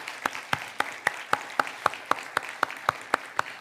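A church congregation claps together in a steady, even rhythm, about thirteen sharp claps in under four seconds, close and fairly loud with no voices.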